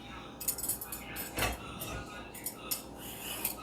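Cucumber being grated with a handheld kitchen utensil, giving quiet scraping and clinking strokes in an irregular rhythm, close by and soft.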